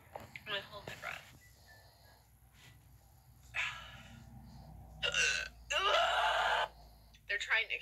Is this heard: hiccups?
yes